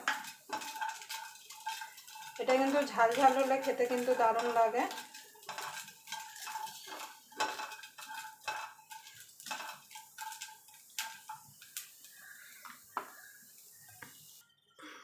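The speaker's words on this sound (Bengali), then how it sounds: "এই কড়াইতে রসুনটা আর কাঁচা লঙ্কাটা দিয়ে দেবো।" Garlic and green chillies fry in a kadai, a steady close sizzle under repeated scraping and clinking of a metal spatula stirring the pan, while someone talks briefly.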